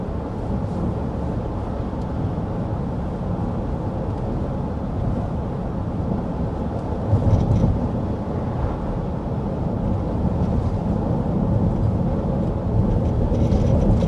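Steady road and wind rumble fills the cabin of a 2025 Ford Expedition Platinum cruising at 55 mph with the fan on low, a continuous, even drone with no talking.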